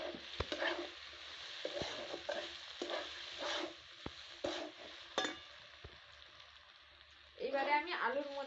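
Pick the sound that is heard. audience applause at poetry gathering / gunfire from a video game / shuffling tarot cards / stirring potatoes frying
stirring potatoes frying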